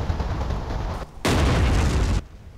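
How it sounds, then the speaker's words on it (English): Cannon fire in the video game Shogun 2 Fall of the Samurai, heard as two loud, sustained booming blasts in close succession, each with a long rumbling tail. "First person, the cannons."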